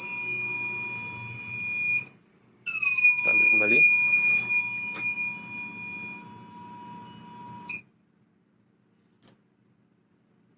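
A steady electronic alarm from a waste collection machine buzzes with a high tonal whine after rubbish over 150 grams is inserted, briefly cuts out, then resumes loudly for several seconds before stopping; a voice speaks over it.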